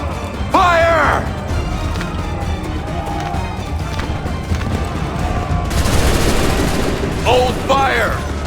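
Musket volley fire in Assassin's Creed 3, a rippling burst of shots with crashes and scuffling around it, while voices shout commands over the noise.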